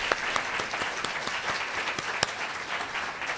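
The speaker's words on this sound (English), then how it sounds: "Let's give them a wonderful round of applause for hosting us" Audience applause for the hosts at a civic gathering at El Centro de la Raza, an even, moderately quiet round of clapping with a few sharper individual claps.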